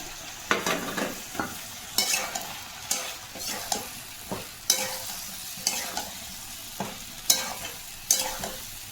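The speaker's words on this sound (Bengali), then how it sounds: "এটাকে সুন্দর করে কষাবো।" A ginger, cumin and turmeric spice paste frying in a pan, stirred in repeated scraping strokes roughly once a second over a steady sizzle, close and clear with no talking.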